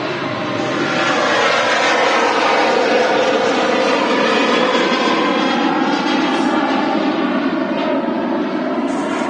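A Ryanair jet at Manchester Airport, its engines producing a loud, steady roar that holds at full strength throughout with no voices over it.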